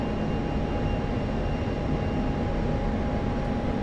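An aircraft flies in the DCS flight simulator game, a steady, loud engine drone with a constant low rumble and a faint tonal hum, unchanging throughout and with no voices.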